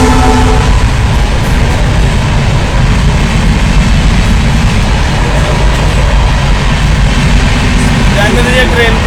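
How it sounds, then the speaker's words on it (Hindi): A train rolls past close by, its loud steady rumble and rattling wagons filling the whole stretch, with a horn-like tone near the end. "जाने दीजिए ट्रेन को।"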